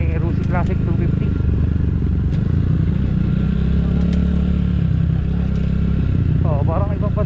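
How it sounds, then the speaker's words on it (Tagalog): Steady engine drone of a Rusi Classic 250 motorcycle ridden along rural roads near Tanza, Cavite, continuous and close throughout, with faint wind and brief higher tones over it. "Ang gamit po namin ay Rusi Classic 250."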